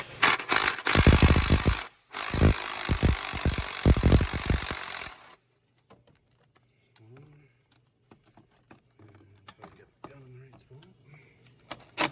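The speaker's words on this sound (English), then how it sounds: "we're just going to take out the two 10mm bolts that hold the thermostat in place." Ratchet working loose the two 10mm thermostat bolts on a 2013 Jeep Wrangler Sahara 3.6L, a fast run of close, sharp clicks for about five seconds, broken by a short pause, then only faint handling noise and quiet shop sounds.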